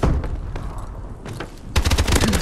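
An XMG heavy machine gun fires in a video game: rapid bursts of gunfire, a first stretch of shots, a brief lull, then a denser, louder volley at the end, with no talking.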